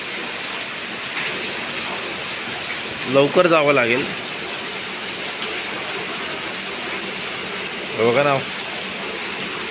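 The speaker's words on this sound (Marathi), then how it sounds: "मला काय पाऊस पडतो आहे" Heavy rain pours steadily in the Konkan region during an April storm, a dense constant hiss throughout, with a person speaking briefly twice over it.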